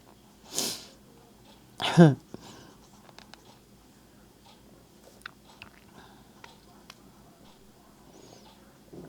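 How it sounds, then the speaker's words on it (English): A breathy intake followed by one loud, close sneeze, then quiet small clicks and rustles. "I can feel a sneeze coming on."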